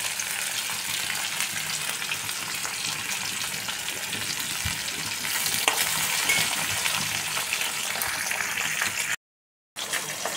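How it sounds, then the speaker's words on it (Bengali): Steady crackling sizzle of pointed gourd frying lightly in hot oil with salt and turmeric, close up and continuous, with occasional stirring scrapes and a brief dropout. "আমি পটলগুলো হালকা ভেজে রাখবো"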